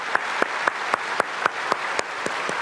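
A church congregation at an early-morning prayer service applauding, a steady even patter of many hands with regular sharper claps standing out, continuous for a few seconds.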